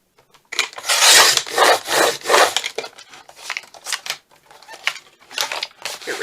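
Paper is cut down by hand for a handmade journal, giving a run of close, loud scraping and rustling strokes in an uneven rhythm.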